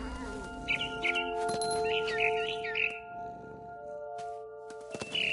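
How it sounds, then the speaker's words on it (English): A barn swallow outside a window gives a quick series of high chirps and twitters, fairly close, over a steady background hum. "I heard chirping outside my window. It was a barn swallow going back to her nest."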